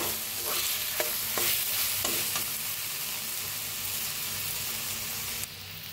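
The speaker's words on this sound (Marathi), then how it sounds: "मस्त असा मसाला भाजायला लागलाय आपला। बघा तेल कसं सुटलंय। आता मिक्स करून घेऊया।" Masala roasting in oil in a pan for a bottle gourd curry, constant close sizzle with a series of rhythmic spatula scrapes, no talking.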